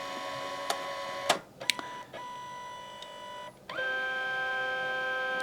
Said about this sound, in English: So it's going back and forth a couple of times, and it's because it's doing yellow first now.